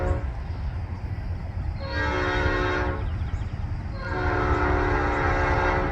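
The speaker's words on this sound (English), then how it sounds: "a westbound train coming. See him coming through here" Westbound Norfolk Southern freight train rumbles past at a rail crossing, sounding two loud horn blasts over the continuous roll of the wagons.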